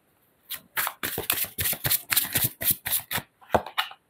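A deck of tarot cards is shuffled by hand in a quick series of close, crisp riffling bursts, about a dozen in a row with short gaps, heard alone.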